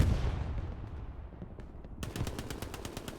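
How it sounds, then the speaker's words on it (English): Rapid bursts of video game gunfire rattle out after a brief rumbling lull, sharp repeated shots in quick succession. "he should hear the gunshots"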